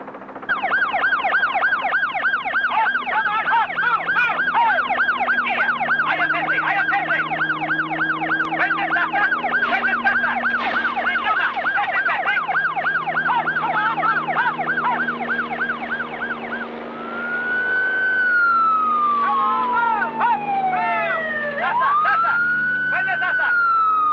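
Police sirens blare from a helicopter loudspeaker system over the bush, used to drive a herd of elephants: a loud, rapid warbling wail that cycles steadily, then shifts into slower rising and falling yelps near the end.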